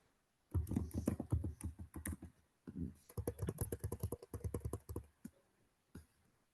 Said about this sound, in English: A few more people typing.